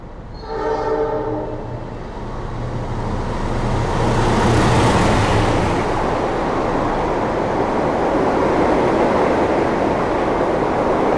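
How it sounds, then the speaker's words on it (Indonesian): The Sembrani passenger train runs through on track 1 without stopping, opening with a loud blast of its horn before a heavy rumble of passing carriages swells and stays close and steady. "Akan kembali melintas langsung di jalur 1 kereta api Sembrani dari arah berlawanan ya, dari arah Surabaya Pasar Turi tujuan stasiun Gambir"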